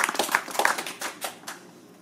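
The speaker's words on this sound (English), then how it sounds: "Golf clap." A small group gives a soft golf clap at a photography workshop, a handful of light, scattered hand claps over about a second before fading out.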